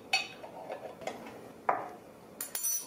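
A spoon scrapes and clinks against a pot while nokedli with turmeric is stirred, a few sharp metallic ticks and taps spread over a couple of seconds, close and fairly quiet with no talk.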